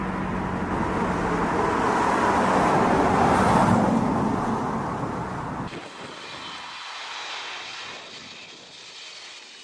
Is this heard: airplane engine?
yes